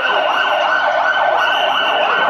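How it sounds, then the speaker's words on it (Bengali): A loud wailing fire engine siren sweeps up and down in continuous cycles, close and dominant, like an emergency vehicle passing nearby, during an office fire training drill. "আমাদের এই যে ফায়ার সার্ভিসের গাড়ি আসবে"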